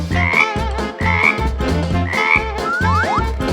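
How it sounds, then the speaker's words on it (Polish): A frog croaks loudly and close by in three repeated, buzzy, drawn-out calls, followed by a few quick rising chirps, with no talking. "Nie wierzę! To żaba!"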